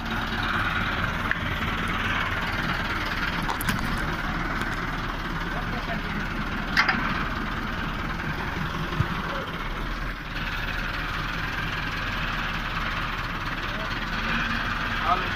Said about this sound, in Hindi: देखा तो जेबी ट्राली लगवा रहा है ट्रैक्टर के साथ